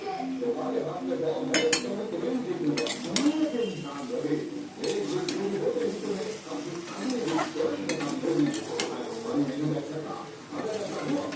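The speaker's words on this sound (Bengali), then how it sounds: "কচু আলু সব দিয়ে দিয়েছি, ভালো করে কষিয়ে নিচ্ছি। চিংড়ি মাছগুলো দিয়ে দিলাম" Taro, potatoes and prawns stir-fried in a pan: a metal spatula scrapes and clinks against the pan over a soft sizzle, in a steady rhythm close by, with a person talking throughout.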